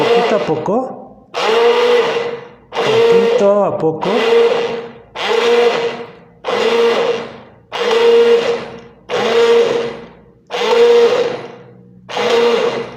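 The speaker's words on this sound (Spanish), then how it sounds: "En el fondo dejamos la licuadora de inmersión" An immersion blender whirs through lemon, vinegar and oil in about ten loud, even pulses of a few seconds each, separated by brief pauses, right at the mic with no other sound.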